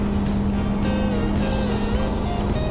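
A furniture delivery truck rolls down a steep descent toward a valley, its engine droning steadily and loud from inside the cab with a constant low hum and no pauses.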